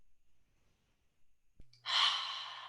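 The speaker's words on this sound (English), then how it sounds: "So just breathing in and breathing out." A single slow breath: a faint quiet inhale, then a soft, airy exhale that rises sharply and trails off, close and alone.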